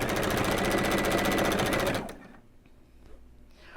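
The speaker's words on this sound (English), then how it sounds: "chain piece what you can" Sewing machine chain piecing quilt block pieces, a steady rapid mechanical stitching run for about two seconds before stopping abruptly, followed by faint handling noises.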